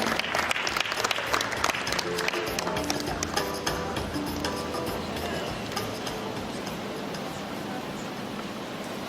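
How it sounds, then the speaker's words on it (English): A conference panel audience applauds steadily, dense clapping loud from the start and easing slightly toward the end, with faint voices underneath. "Please a round of applause for Mike."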